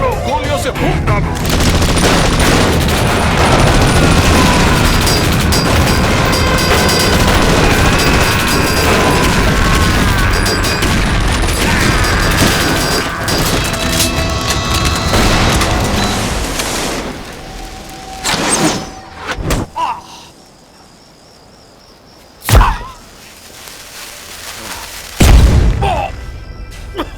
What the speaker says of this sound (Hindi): उसे मार डालो, गोलियों से फूंक डालो।